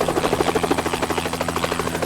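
A game helicopter in Helicopter Simulator 2014 during a pirate-attack raft rescue gives a steady rhythmic rotor chop, evenly pulsing and fairly loud, heard alone without talk.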